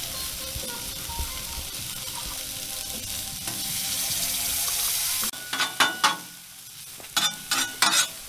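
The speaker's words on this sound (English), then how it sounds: "you have to have sauteed mushrooms." Mushrooms sauté on a Blackstone griddle at a campsite, a steady sizzle that gives way to a run of sharp metallic scrapes and taps from a spatula stirring them.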